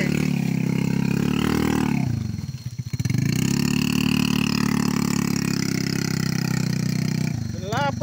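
A motorbike hauling oil palm fruit bunches climbs a steep, rough plantation track, its engine roaring loud and close at high revs, dipping briefly midway before surging again.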